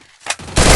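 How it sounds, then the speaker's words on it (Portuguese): Gunfire in a shooting video game: a short sharp shot followed by a loud rapid burst, close and dense. "Um tiro, pega!"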